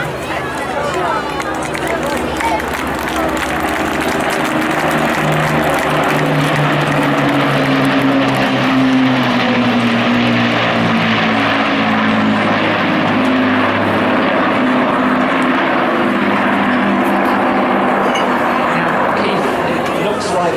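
Two Lancaster bombers with Packard engines make a flypast at the Clacton Air Show, their propeller engines droning loudly and continuously with a slowly shifting pitch, while a voice speaks over them.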